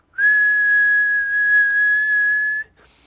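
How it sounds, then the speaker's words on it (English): A person on a golf putting green whistles one clear, loud, sustained note for about two and a half seconds. The pitch stays nearly level, then the note cuts off abruptly, leaving a brief faint noise. "Try putting as you whistle."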